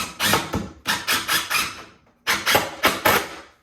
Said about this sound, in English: Set the screw. Get in. I like using impact drills.